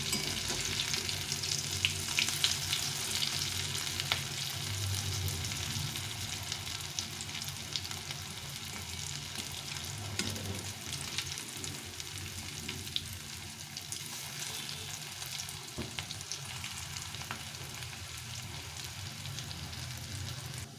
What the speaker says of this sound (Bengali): এই বড়াগুলোকে এরকম উল্টে পাল্টে ভেজে নিতে হবে